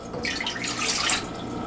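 Water pours steadily into a saucepan in one continuous, close, bright splashing stream, with no talk over it.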